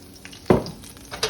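Pork chop frying in oil in a pan, with a burst of sizzling about halfway through and a second flare near the end over a low, steady background crackle.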